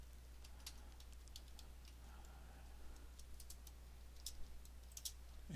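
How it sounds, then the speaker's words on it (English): Quick, light clicks of typing on a computer keyboard during Java programming, irregular keystrokes in short bursts over a steady low hum, fairly faint and close. "I'm pressing wrong buttons on my keyboard"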